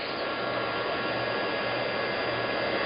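A heat tool blows steadily over embossing powder, producing a constant, close, loud whooshing drone with a low motor hum and no pauses.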